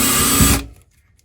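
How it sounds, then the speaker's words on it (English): A power drill bores through the wood of an RV sink cabinet in a loud, steady whir close by that cuts off abruptly after about half a second and leaves silence. "I'm just going to drill straight through, and then I'll see where it comes out"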